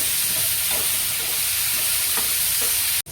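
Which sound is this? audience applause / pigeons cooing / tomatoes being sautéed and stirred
tomatoes being sautéed and stirred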